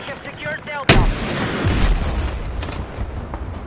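A sudden loud blast from a video game rocket launcher erupts, followed by a rolling rumble and scattered debris-like crackles that fade out over a few seconds.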